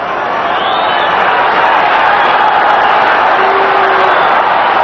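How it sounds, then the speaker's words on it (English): Rugby league stadium crowd at a Wigan versus Australia match jeering and shouting at the referee over a five-metre call, a loud, sustained roar with whistles and whoops blending into one wall of noise. "Crowd trying to let the referee know what they think about the 5 metres."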